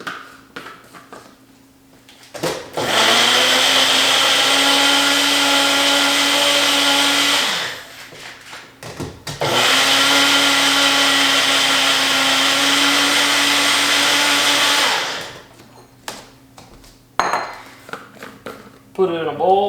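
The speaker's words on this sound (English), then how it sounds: "So then I'll grind it together, or blend it together over here." Blender whirring through blueberries, strawberries and blackberries for a breakfast pudding, two loud sustained runs of about five seconds each with a short pause between, then clattering and handling noises afterward.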